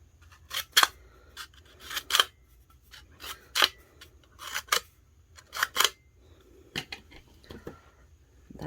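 Scissors snip through clear waterslide decal paper in a series of short, crisp cuts spaced irregularly apart, close and distinct against a quiet background.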